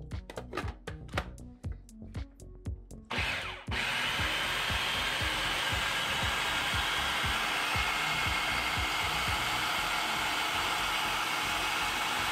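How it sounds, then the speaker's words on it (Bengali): An electric kitchen blender grinds chickpeas for a sweet halwa: a few sharp clattering pulses first, then a loud, steady high whirring motor drone that runs on without a break. "তো আমি এইটার মধ্যে এখন এই আমার বুটটা ব্লেন্ড করব।"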